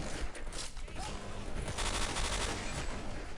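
Dense automatic gunfire rattles in rapid bursts in Counter-Strike: Condition Zero, loud and continuous with overlapping shots throughout.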